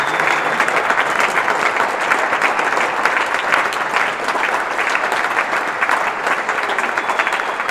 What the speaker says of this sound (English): I'd like to give her a huge round of applause for everything.